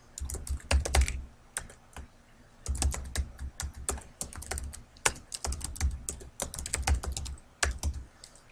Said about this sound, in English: what I'm doing to move from cell to cell is just hitting the tab key